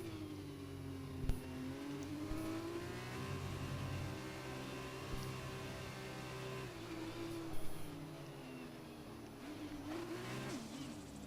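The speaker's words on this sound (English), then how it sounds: "They're revving it up now." Formula 2 race cars in an Xbox racing game revving on the grid at the Sochi Autodrome, overlapping engine notes rising and falling in pitch, steady and mid-distance, with a few brief louder bursts.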